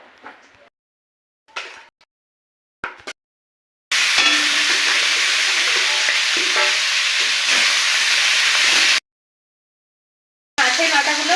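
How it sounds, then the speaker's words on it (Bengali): Catla fish heads frying in mustard oil in a wok give a loud, steady sizzle that lasts about five seconds, with short bursts of handling noise before it and a brief sizzle at the end. "এখন আমি মাছের মাথাগুলো ভেজে নেব। আমি কড়াই বসিয়ে দিয়েছি, দিয়ে দিলাম সরিষার তেল।"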